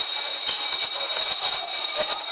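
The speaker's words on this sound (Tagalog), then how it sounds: "maririnig din ang malakas na alarm na umuugong sa buong gusali" An office building's alarm in Cebu's IT Park wails continuously during an earthquake evacuation, a loud, steady electronic tone with faint thumps underneath and no voices.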